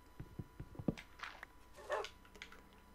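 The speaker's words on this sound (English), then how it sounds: "What are you barking at, huh?" Dog barking in the building game Birdcraft: a quick run of short, close barks followed by a higher yelp and a few softer yips over quiet background.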